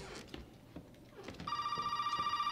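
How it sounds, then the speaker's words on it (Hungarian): Telephone ringing in the survival horror game Resident Evil 7, a steady electronic trill that begins partway through, loud and close, after quiet footsteps and rustling. "Telefon."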